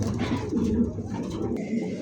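A male pigeon coos repeatedly, low and rolling, close by amid other cooing birds at a pigeon market, with no talk over it.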